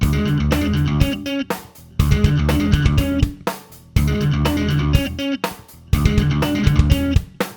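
Tapped bass groove from a song plays as a dense, punchy looping riff of quick repeated notes with brief gaps about every two seconds, close and loud with no voices.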